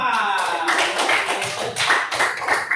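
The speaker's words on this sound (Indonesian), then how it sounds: "Mari beri tepuk tangan untuk kelompok 4." Classroom clapping for group 4 during a teaching session, close, uneven bursts of hand claps with a few sharp taps, while a voice talks briefly at the start.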